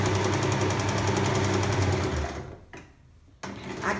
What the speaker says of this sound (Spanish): Aquí estamos cosiendo para darle un mejor terminado